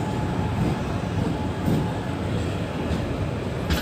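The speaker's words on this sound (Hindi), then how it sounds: "ट्रेन लग रही है दोस्तों प्लेटफॉर्म नंबर 4 पर।" An Intercity Express train pulls into platform 4 at Prayagraj Sangam station, a steady loud rumble of rolling wagons that continues throughout with faint clatter on top.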